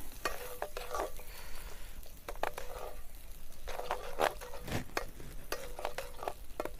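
Hot oil crackles and sizzles in a pan while cooking chicken biryani, a steady close frying hiss broken by sharp spatters and occasional clinks of a spoon.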